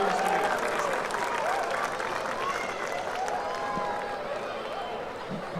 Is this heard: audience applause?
yes